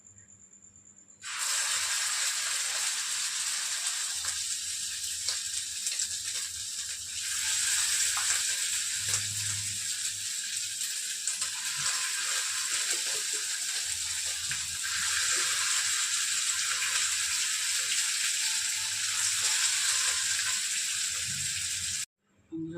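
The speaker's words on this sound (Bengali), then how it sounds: "তেল গরম হয়ে গেছে, এর মধ্যে আমি চিকেনগুলো ফ্রাই করে নেব" Chicken pieces frying in hot oil for a garlic chicken dish: a loud, steady broadband sizzle starts abruptly, swells slightly partway through and holds continuously for about twenty seconds before cutting off.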